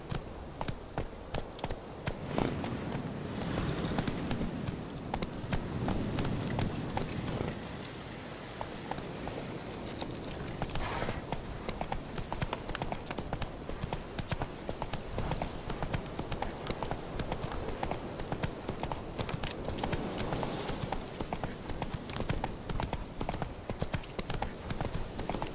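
Horse hooves clip-clop steadily in The Witcher 3: Wild Hunt, a continuous brisk walking rhythm heard close up over a busy game soundscape for the whole stretch, without talk.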